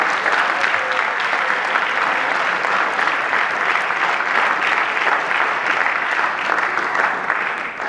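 A forum audience claps steadily and densely for the full stretch, a loud, even wash of many hands with no pause and no voices standing out.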